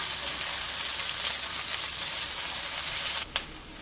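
Chopped onion frying in a pan for mixed fried rice, a loud continuous hiss of sizzling oil that cuts out abruptly near the end with a brief sharp burst, no voices.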